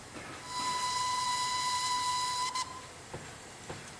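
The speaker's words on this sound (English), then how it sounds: "So there is a main whistle that comes with the locomotive, which is fully interactable inside the cab." Steam whistle of an LNER Y6 steam locomotive in a video game, one sustained shrill blast of about two seconds that cuts off sharply, followed by faint hiss and a couple of short clanks.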